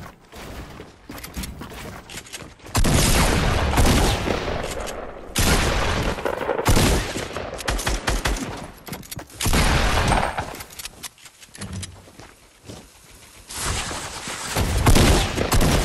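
Mounted turret gunfire in a video game, loud sustained bursts of rapid automatic fire broken by short pauses, with crackling impacts and shattering debris throughout.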